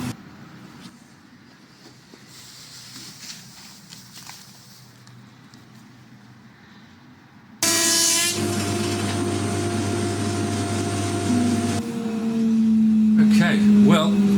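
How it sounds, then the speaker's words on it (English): A thickness planer feeds rough wooden boards down to an even thickness, starting at about eight seconds as a loud, steady mechanical roar that holds to the end, after a stretch of quieter shop noise. "I'm not finished planing these all to the same thickness just yet"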